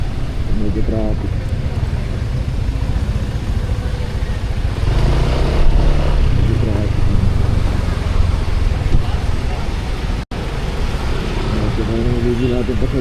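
Steady road traffic in Baguio city during the Panagbenga Festival, a continuous low engine rumble of cars and motorcycles passing close by, with people talking over it throughout.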